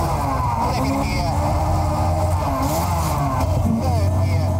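A car engine revs hard between 5,000 and 9,000 rpm, climbing in pitch, dropping and rising again as it shifts from second to third gear, loud and close, with some voice mixed in.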